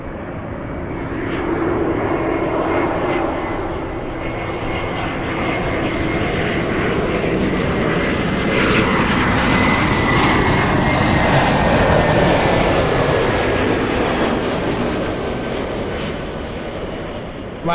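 Lufthansa and British Airways airliners at LAX airport produce a loud jet engine roar that builds over several seconds, peaks and slowly fades, heard from a moderate distance.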